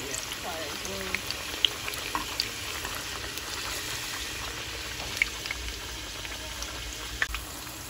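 Breadfruit taco shell frying in oil in a pan, a continuous bubbling sizzle with scattered crackles, steady and close, while a voice talks over it.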